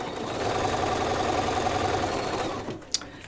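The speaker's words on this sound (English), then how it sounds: "We're going to start stitching right here" Sewing machine stitching a seam through a padded laptop case lining, a fast steady mechanical whir running continuously up close, then stopping, followed by a brief click.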